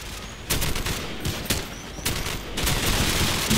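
Dense, rapid bursts of rifle fire crackle in a Call of Duty match set in Rio's Rocinha, with overlapping shots and short pauses forming a loud, continuous firefight.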